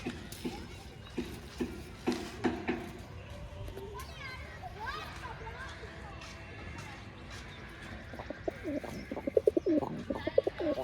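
A pair of old-line Kalsila tumbler pigeons coos softly nearby. The low coos sit under people talking and children's voices in the background.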